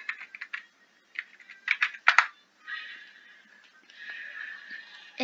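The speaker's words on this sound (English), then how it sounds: "let me type it up." Keys clatter on a computer keyboard in quick, uneven bursts of close, crisp clicks, with short pauses between runs and a softer steady stretch toward the end.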